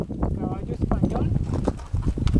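Hooves of a Spanish horse clip-clop during a riding outing in Bogotá, a steady run of close knocks heard under ongoing conversation.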